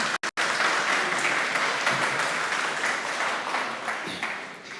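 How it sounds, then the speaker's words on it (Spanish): An audience at a theology symposium applauds as a pastor and doctor is introduced. The clapping is sustained and dense, with many hands, and it tapers slightly toward the end. "Pido un aplauso para él."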